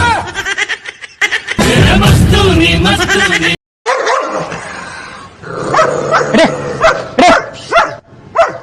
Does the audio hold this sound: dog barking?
yes